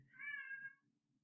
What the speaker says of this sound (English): My cat just wanted to come to the room quick.